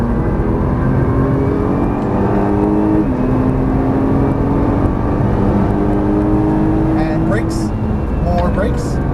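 A Nissan GT-R engine pulls on a race track, its loud, close drone holding a steady pitch and climbing under throttle, with an instructor's voice talking over it.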